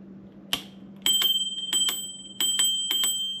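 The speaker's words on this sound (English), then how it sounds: "Bell." An electric scooter's handlebar bell rings in several sharp, bright dings: one single strike, then two quick pairs and another pair, close and clear against a quiet background hum.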